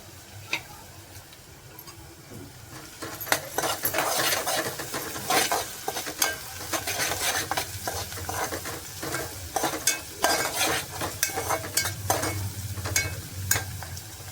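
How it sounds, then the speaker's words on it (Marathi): Garlic sizzles in hot oil for a Marathi-style chicken curry, with a steady fry under repeated sharp clicks and scrapes of a spoon stirring against the pan. "आता आपण लसूण टाकूया मी लसूण टाकलेली आहे"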